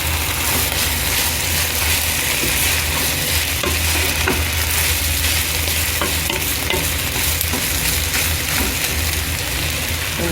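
Chicken pieces fry in a pan with sugar while being stirred, giving a dense, loud, constant sizzle with scraping clatter running through it, close and continuous.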